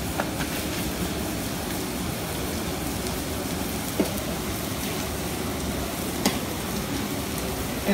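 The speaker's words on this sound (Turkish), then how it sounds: "Etler korkulmadan atılıyor." Tantuni meat thrown onto a hot greased griddle sizzles in a dense, steady hiss throughout, with a few faint scrapes and clinks rising above it.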